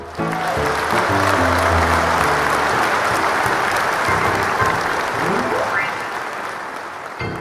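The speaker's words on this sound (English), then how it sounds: "And the crowd goes wild." A live-streamed piano bar audience applauds to welcome pianist Robin Spielberg in her home. The applause is loud, dense and steady for about six seconds, with some low tones mixed in at the start, then it tapers off toward the end.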